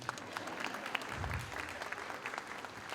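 An audience at a school convocation applauds, sounding as scattered, fairly faint clapping that continues steadily for a few seconds.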